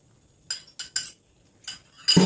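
Lomi noodles with egg being stirred in a pan, the utensil clinking against the metal in a few short separate scrapes, with a louder clatter at the end.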